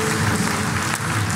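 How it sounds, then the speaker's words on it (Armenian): An audience at a women's club television show applauds loudly, a dense, continuous wash of close clapping filling the whole short moment. "Բարձր ծափարեք Լոյզան, խնդրում եմ"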